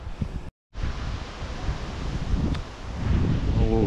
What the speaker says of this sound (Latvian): Nu, lūk, ir tāds vējš.